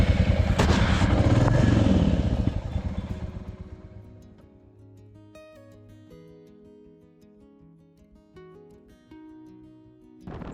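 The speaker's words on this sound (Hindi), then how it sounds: "मैं तो जा रहा हूँ बाइक से" A motorcycle engine roars loud and close for about three seconds on the Kedarnath Yatra road, then gives way to steady tonal sound for the rest of the clip.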